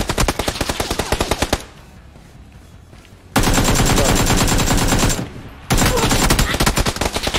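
Rapid automatic video-game gunfire in PUBG, in bursts, loud and close, with two brief pauses between long sustained volleys.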